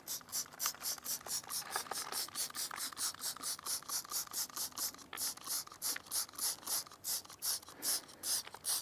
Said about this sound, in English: We'll just go ahead and spray this down liberally.